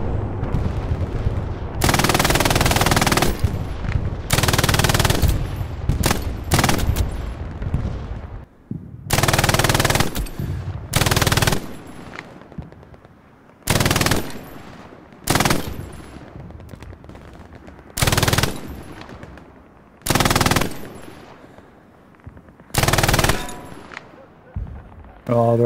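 Machine gun strafing in the World War II shooter Hell Let Loose, heard as a string of loud, sharp, rapid-fire bursts separated by short gaps over roughly twenty-five seconds.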